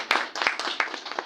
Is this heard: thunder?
no